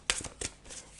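Tarot cards shuffle in a quick, close burst: two crisp riffling flutters, then a softer slide as a card is drawn, all quiet and without speech.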